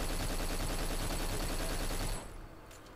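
Rapid automatic gunfire from the shooter game Black rattles loudly and continuously for about two seconds, then cuts off abruptly, leaving a quieter ringing tail.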